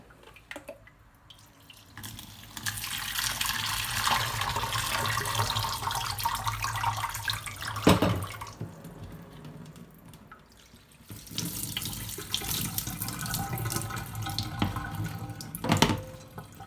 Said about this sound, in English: I will give it another watering.